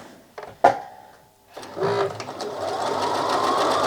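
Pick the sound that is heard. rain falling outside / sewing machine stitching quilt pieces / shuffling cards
sewing machine stitching quilt pieces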